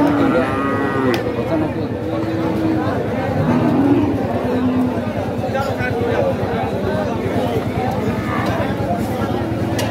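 Cattle low and moo repeatedly at a crowded rural village livestock market, with long drawn-out calls near the start. Voices chatter underneath, and a constant busy murmur of the gathering fills the background.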